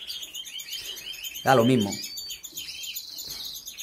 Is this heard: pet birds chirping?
yes